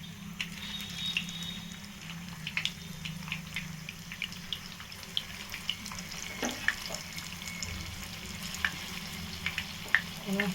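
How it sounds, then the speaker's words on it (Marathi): Food frying in hot oil on a gas stove, a quiet continuous crackle and sizzle with small pops and occasional clinks, heard alone without talk. "आता आपण सगळे फ्राय करून घेऊया."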